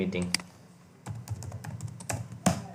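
Quick tapping on a computer keyboard while building a business website, clustered keystrokes up close with short pauses, a voice speaking softly alongside.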